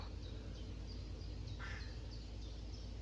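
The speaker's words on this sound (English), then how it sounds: "It's crow." A crow caws a few times against steady outdoor background noise in Finnish countryside in June, the calls short and moderately distant, with no talking.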